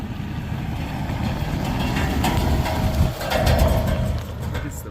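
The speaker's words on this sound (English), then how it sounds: "Get some vehicles coming up it" A Park Service vehicle drives up a mountain dirt road in the Sierra Nevada, its engine a steady low rumble that grows slightly louder as it approaches, heard close under wind noise.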